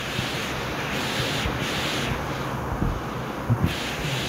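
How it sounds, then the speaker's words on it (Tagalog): Steady, dense broadband wash of heavy rain pouring down, constant throughout, with a couple of brief low thumps near the end. "Lakas lang guys yung ulan."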